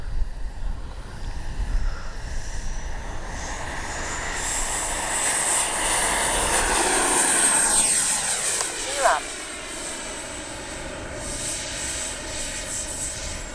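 Twin 64mm ducted fans on an RC F-15 jet whine steadily through a flyby, holding a high-pitched tone that rises and swells as it passes close, with people talking faintly underneath.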